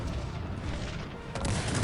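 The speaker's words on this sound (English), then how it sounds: "Now he is shooting with cannons" Cannons fire in a naval battle video game, a dense roar of overlapping booms and blasts with a sharper burst near the end, loud and continuous with no talk.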